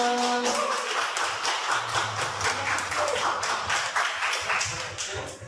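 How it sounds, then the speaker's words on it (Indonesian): A class of high school students claps together in a classroom: dense, fairly close applause of many hands that holds steady for several seconds before tapering off at the end. "Ya, kita berikan aplaus untuk kita semua."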